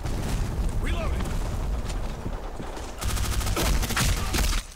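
Bursts of MPX submachine gun fire in an online shooter game crackle in rapid, close volleys, the densest stretch near the end, over a busy mix of game effects and a voice talking.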